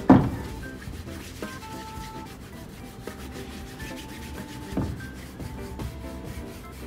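Cream is rubbed into a Red Wing 9875 leather work boot with soft, close, steady brushing and rubbing strokes, plus a faint knock at the start and light background hum.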